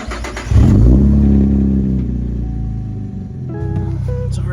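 A car engine cold-starts with a loud burst, then settles into a rough, steady idle with revs rising and falling over a few seconds, recorded close up.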